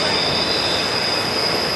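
A Norfolk Southern train passes close by with its wheels squealing, a loud, steady high-pitched screech over a dense rumbling roar with no talking.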